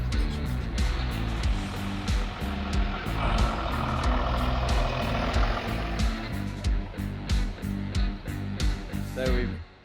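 Unimog expedition truck driving through woods, a low, rumbling engine drone with rattling and jolting bumps and repeated sharp knocks, fairly loud and close, with people talking over it.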